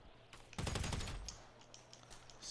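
Rapid automatic gunfire erupts in a 1v1 shooter match on a training facility map, a dense close burst of about half a second that tails off into lighter clicking game sounds, with no talk.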